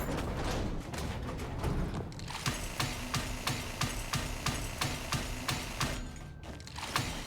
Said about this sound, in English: And we're gonna just use our drill on that.